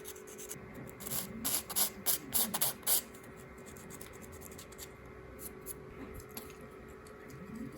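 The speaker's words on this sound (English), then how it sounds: "And we'll just come in with the sanding stick again." Short bursts of dry scraping as a sanding stick rubs back and forth on a small plastic model ship part, close up, with pauses between strokes.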